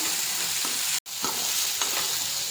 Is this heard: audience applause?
no